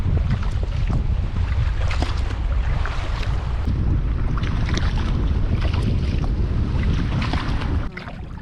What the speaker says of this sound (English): the wind switched back to the south this week. That's a southeast wind.